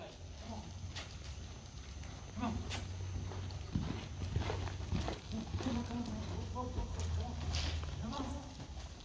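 Horse loping and weaving through poles in pole bending, with a soft, rhythmic patter of hoofbeats on the ground under people talking.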